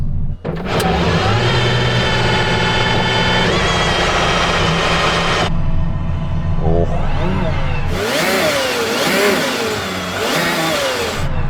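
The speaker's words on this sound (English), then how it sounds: "it's called a Valkyrie for a reason. So do you want to rev yours up?" An Aston Martin Valkyrie V12 engine starts with a sharp catch and settles into a loud, steady high idle, then cuts briefly before a run of fierce, rapid revs rising and falling, close and alone.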